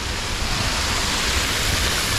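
Waterfall in an amusement park, a loud, steady broadband rush of falling water filling the whole clip without pause, heard close up and alone.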